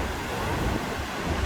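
Ocean surf rolling in on Hawaii's north shore during a surfing competition, a steady broadband wash of breaking waves with wind rumble against the microphone, continuous and fairly loud with no clear separate breakers.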